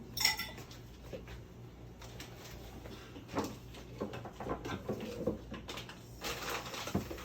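Large serving spoon clinking and scraping in a casserole dish, several light metallic taps and knocks spread irregularly through a quiet kitchen.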